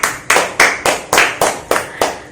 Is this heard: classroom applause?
yes